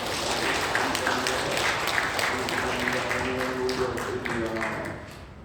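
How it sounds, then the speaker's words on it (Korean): Congregation applauding during a Sunday church worship service, a sustained, even wash of many hands clapping with a faint low tone underneath, tapering off at the end. "감사와 찬송과 영광의 박수를 올려드리겠습니다."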